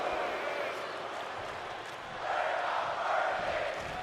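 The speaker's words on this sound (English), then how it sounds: "the crowd chatting, we're not worthy in this one" A large arena crowd in the WWE 2K24 wrestling game chants "we're not worthy" in a steady, moderately distant roar that swells midway through, with no voices close by.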